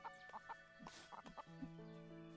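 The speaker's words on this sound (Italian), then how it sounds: "Seconda gallina portata a casa." A farm chicken in the video game Everdream Valley clucks in short, bright repeated calls, then gives a longer drawn-out squawk, with a soft tonal game music bed underneath.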